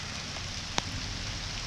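Steady rain falling outdoors on a garden during a drought-breaking shower, a dense continuous patter with one brief sharper drop tap partway through, no voices.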